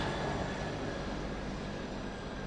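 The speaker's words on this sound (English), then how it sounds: "Hey, helicopter." Helicopter flying overhead at a beach, a steady low droning rumble heard at moderate distance throughout, continuous and even with no voices.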